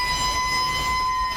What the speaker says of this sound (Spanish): Las sirenas de los camiones de bomberos.